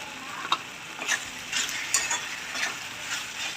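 Taro leaf bhaji with kokum being stirred in a pan, a gentle wet sizzle with soft rhythmic scraping strokes, close and fairly even.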